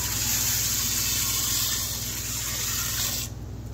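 Water poured into a container to mix with water gel crystals for mealworms, a steady loud gushing pour that runs continuously for about three seconds before cutting off abruptly.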